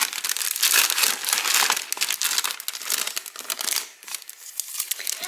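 Sheets of 30 by 30 craft paper and cardstock are handled close up, giving continuous dry crinkling and rustling with brief louder crackles and short pauses.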